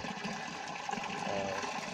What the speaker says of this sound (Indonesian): sebagian dibagi dalam sebuah keran, sehingga air itu jatuh ke dalam tandon